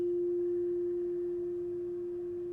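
A singing bowl rings a single sustained heart-chakra tone, steady and clean at moderate level with a soft low hum beneath, no voices.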